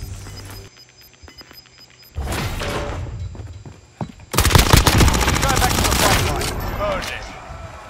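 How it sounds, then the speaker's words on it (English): Gunfire in a video game firefight comes in as sustained, rapid automatic bursts, loud and close, with footsteps and a voice under it. "Receiving hostile fire."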